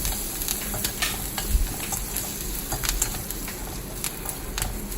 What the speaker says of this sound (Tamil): வடகம் இல்லைன்னா கடுகு மட்டும் போட்டு தாளிச்சுக்கோங்க.